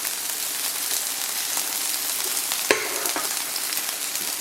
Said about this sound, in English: then you're going to fry these on both sides